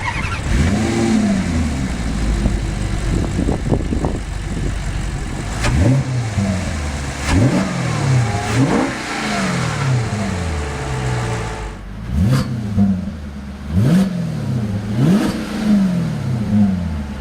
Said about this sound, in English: it also opens up a set of exhaust baffles at the back that allows a more pronounced sound